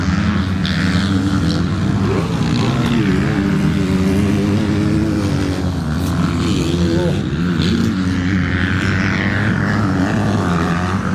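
250cc motocross motorcycles racing in a Junior Lites event at Dargle, their engines droning and revving continuously at a loud, steady level without letup.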